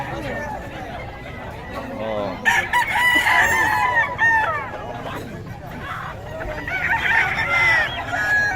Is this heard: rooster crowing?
yes